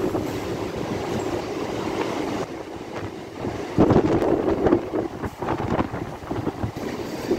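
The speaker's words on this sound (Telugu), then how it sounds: "ఒక ట్రైన్ ప్యారలల్ రన్ అవుతుంది." An MMTS local commuter train runs through Hyderabad toward Secunderabad with another train alongside, giving a continuous loud rumble of wheels and carriages with wind buffeting and rattling clatter that swells midway.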